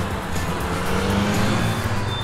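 Dense car traffic in Istanbul, a steady loud wash of engines and tyres rolling close by with a continuous low rumble and no pauses.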